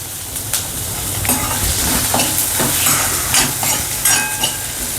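Onion sautéing in a pan for Mumbai-style misal, a steady sizzle with repeated scraping stirs of a spoon through the onions, close and fairly loud, with no talking.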